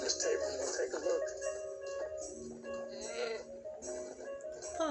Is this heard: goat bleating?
yes